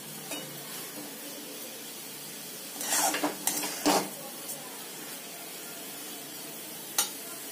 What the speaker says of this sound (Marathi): मी अर्ध्या वाटीला असंच एक 2 मिनिटं आपण मिक्स करून घेणार आहोत